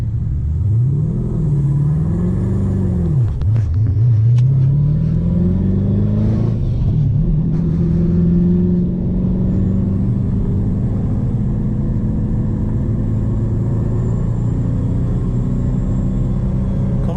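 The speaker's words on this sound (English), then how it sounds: "We are running this GT2 RS." A Porsche GT2 RS races a twin-turbo Dodge Hellcat, with a loud nearby engine revving and surging in rising, falling pitch sweeps before settling into a steady droning pull, no talk over it.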